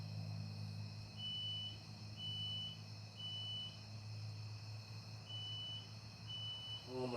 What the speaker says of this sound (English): that smoke alarm. Oh, that's going to drive me nuts. Beep, beep, beep.